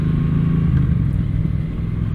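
A 2018 Triumph Street Twin motorcycle engine running with a deep, steady, throaty rumble, loud and close, holding an even note throughout.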